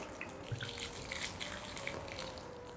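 Wine is poured into a bathtub, making a steady, fairly faint trickling and splashing of liquid with small drips, heard alone without talk.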